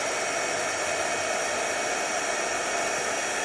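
A heat gun blows hot air to melt embossing powder on a snowflake card, giving a steady, loud, unbroken whooshing hiss that stays constant throughout with no voices.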